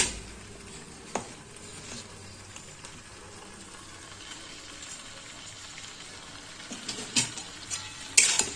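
Spinach dhoka masala being sautéed in a pan for a Bengali palong saak dhoka, a steady low sizzle with scattered stirring clicks and scrapes that grow a little louder near the end.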